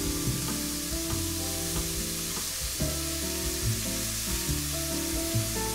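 Boiled gnocchi sizzles in a pan with mushrooms and browning sweet potato, a steady close frying crackle with occasional stirring clinks and scrapes.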